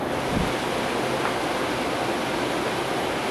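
A 1960s Philco Ford air conditioner fan blowing cold air, a steady broad rushing hiss that is loud, close and unchanging throughout, with no voices.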